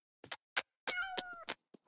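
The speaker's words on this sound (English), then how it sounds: "Come out, cat. I'll be your friend." A cartoon cat meows in a short series of calls, a few quick chirps followed by one longer drawn-out meow, then another brief chirp, close and clear against silence.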